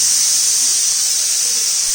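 A steady, loud high-pitched hiss of escaping steam runs unbroken throughout, like a pressure cooker venting.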